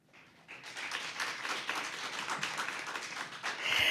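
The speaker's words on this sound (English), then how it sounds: "Another round of applause" Audience clapping after a girls' high school debate speech, rising from quiet into steady, dense applause that keeps building to the end.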